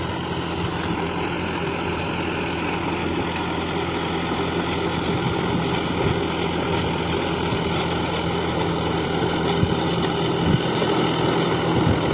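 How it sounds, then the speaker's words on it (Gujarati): A steady, droning tractor engine runs continuously at a constant pitch while ploughing a field, fairly loud and close, with no talk over it. "જો અટાણે ટ્રેક્ટર ખેડે જો"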